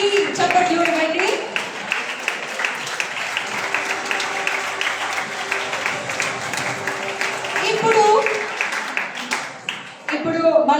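A debate-finals audience claps steadily for both teams, a sustained, moderately loud applause that rises and falls over about ten seconds, with brief voices mixed in.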